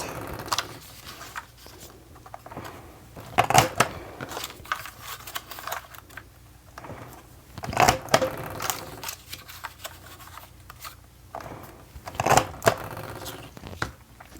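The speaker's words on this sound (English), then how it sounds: "I'm going to use this punch down here, which is a corner rounder, and round out each of my corners" A handheld corner rounder punch clicks through paper corners for a graduation banner, producing a few sharp, separate crunching snaps spaced a few seconds apart, with small rustles and handling noise between them.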